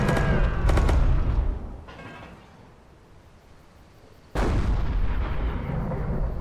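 Enemy gunfire and artillery pounding a base in the World War II strategy game Company of Heroes: loud blasts and rattling shots, a lull fading to quiet, then a sudden heavy impact and sustained roaring barrage.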